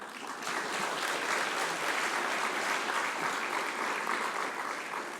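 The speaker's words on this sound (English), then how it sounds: "You can clap." Audience clapping at a university research awards ceremony, a steady wash of many hands applauding together at moderate distance for about five seconds, with no voices over it.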